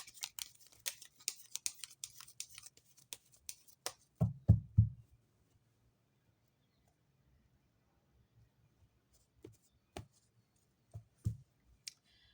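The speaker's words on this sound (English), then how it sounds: "I'm shuffling the cards." Tarot cards being shuffled by hand, a dense run of quick riffling snaps and clicks up close, followed by a few louder thumps as the deck is handled, then sparse taps over near silence.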